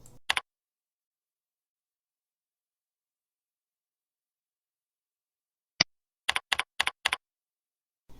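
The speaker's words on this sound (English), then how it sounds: "Type the course number and tab and type through the remaining fields in that" Computer keyboard typing while filling in fields of a course planner: a single keystroke, then a long silence, one click, and a quick run of five or six crisp taps, close and isolated.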